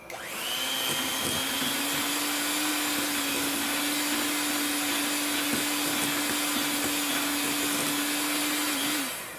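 An electric stand mixer beats whipped cream cake filling with a steady, loud motor whine that holds constant pitch, starting and stopping cleanly with no speech over it.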